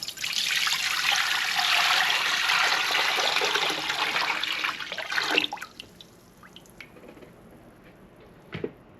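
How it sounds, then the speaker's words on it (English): A bowl of water pours steadily into a cooking pot for about five seconds, then stops, leaving faint drips and light handling clatter in a kitchen. "Now to a pot, I'm gonna add a bowl of water."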